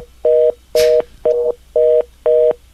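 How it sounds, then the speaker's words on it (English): A telephone fast busy signal: a rapid series of short, identical electronic tone beeps evenly spaced about twice a second, loud and close, with one brief noisy click, no speech. "It's a fast, busy signal."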